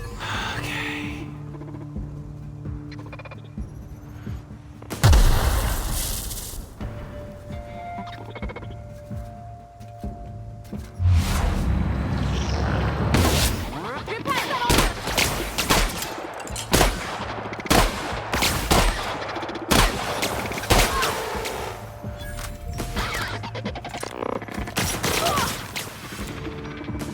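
Rapid bursts of laser gun fire from The Outer Worlds, sharp repeated shots in uneven clusters over a steady mechanical background, loud and close, with no talking.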